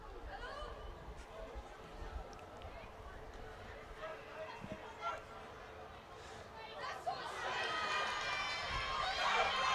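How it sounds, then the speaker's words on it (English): Spectators shout and chatter at a women's National League rugby match between Cardiff Met and Hartpury, with voices rising under steady play noise and swelling louder near the end. "Shouts from the crowd saying it's not straight"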